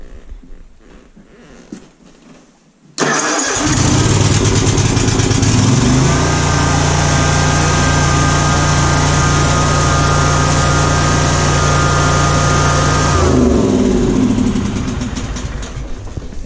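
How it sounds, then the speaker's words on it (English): A Ferris ZTR zero-turn mower engine cranks and catches with choke applied, then runs loud and steady close by, a constant droning idle that tapers slightly near the end. "Engine sounds pretty good."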